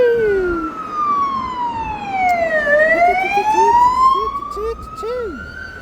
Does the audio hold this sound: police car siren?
yes